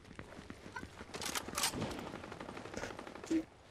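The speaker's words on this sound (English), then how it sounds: "Ooh, shooting!" Rapid bursts of gunfire in Fortnite Chapter 5, steady rattling shots throughout with a few louder cracks, moderately close, no talk over it.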